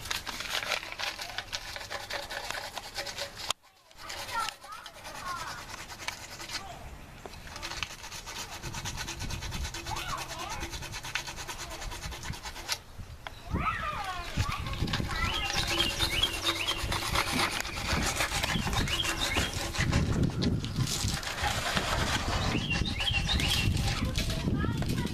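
Wood being shaved or rasped by hand, taking down leftover screw knobs on a wooden post, with steady rubbing and scraping strokes that grow louder partway through, alongside occasional talk.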